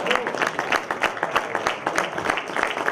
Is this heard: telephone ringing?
no